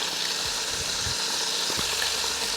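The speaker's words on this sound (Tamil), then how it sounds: "ஒரு கருவாப்பட்டையை உடைச்சி போட்டுருவோம்." Cinnamon bark sizzles in hot sesame oil, a steady soft frying hiss with a few faint clicks and stirring taps, close by and no voices.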